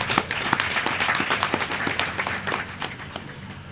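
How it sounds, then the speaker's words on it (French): An audience at an outdoor awareness session claps briefly in loose, scattered bursts, mid-level and fairly close, thinning out toward the end. "que je vous demande d'applaudir."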